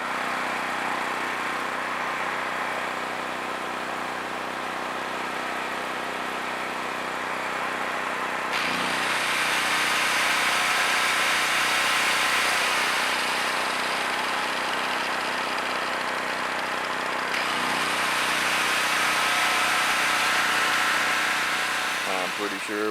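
A repaired portable generator runs steadily under test, a continuous mid-pitched engine drone with the tone and load shifting at a couple of points, close and moderately loud, with no talk over it.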